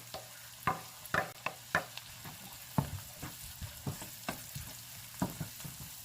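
Onions and garlic frying in melted butter in a pan, a faint steady sizzle punctuated by repeated sharp clacks and scrapes of a utensil stirring at an uneven rhythm.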